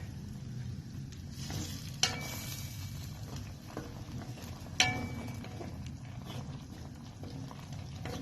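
Squid adobo simmers in a pan with vinegar, a low, steady bubbling hiss close by, broken by two sharp metallic clinks of a utensil against the pan.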